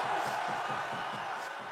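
A patriotic rally crowd in Daegu roars in a sustained, loud collective shout, a dense wall of many voices that fades slightly toward the end.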